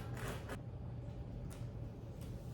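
A knife saws into fresh ciabatta bread with a rough, rasping scrape at the start, then a few fainter crunchy cuts through the crust, close and quiet, with no talking.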